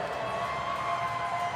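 A crowd at the CrossFit Games semifinals cheers and whoops steadily, a dense sustained roar of voices from a large audience.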